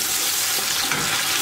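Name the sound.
sautéing tomato and pepper paste in a pan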